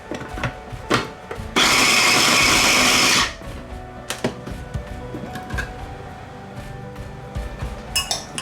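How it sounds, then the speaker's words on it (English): A kitchen blender chops sun-dried tomatoes in one loud, whirring burst of under two seconds, framed by quieter clinks and knocks of utensils and dishes. "I'm just going to blend them a little, just so they're not too big on the palate when eating"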